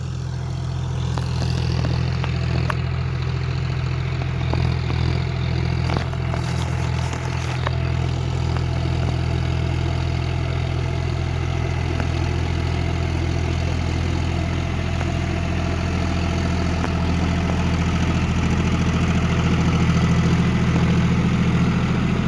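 John Deere 5050D GearPro 4WD tractor pulling a 72-blade Leo rotavator through a seedbed field, a loud steady low engine drone with constant churning, close and continuous.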